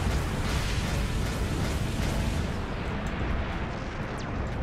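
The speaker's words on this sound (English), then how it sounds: "Those missiles, the vulture missiles, not cool." Missile explosions from vulture missiles striking a ship in the space combat game Dreadnought form a dense, continuous barrage of loud, rumbling blasts and crackling bursts, close and overlapping with no pauses.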